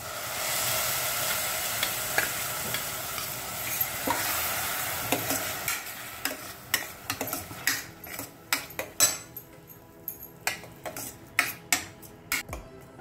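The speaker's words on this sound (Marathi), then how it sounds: "हा कांदा परतला गेलेला आहे, तर त्याच्यात आपण आता टोमॅटो प्युरी घालूया।" Tomato puree hits sautéed onion in a pressure cooker for rajma curry, starting with a steady sizzle, then a run of sharp, rhythmic spoon clinks and scrapes against the metal pot as it is stirred.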